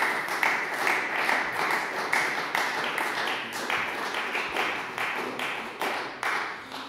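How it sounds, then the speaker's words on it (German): Applause in the Austrian parliament, many hands clapping in a dense, rhythmic patter that holds steady and loud for about seven seconds, with no speech over it. "Applaus"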